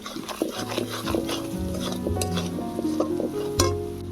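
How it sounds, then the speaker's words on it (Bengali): A ground spice mix of cumin, coriander, chilli and garam masala with green chillies is stirred and fried in a pan for a village-style duck egg curry, a spoon scraping and clinking rhythmically over a low sizzle, close, no voices. "এবারে মশলাটা ভালো করে কষিয়ে নেব"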